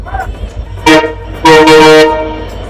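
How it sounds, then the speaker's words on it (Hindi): A WDP4B diesel locomotive sounds its horn at a station platform on a Bikaner–Darbhanga summer special train: two loud blasts, a short one then a longer one, over low rumbling background noise. "काऊ की वजह से जो है ना हॉकिंग तगड़ी हो रही है"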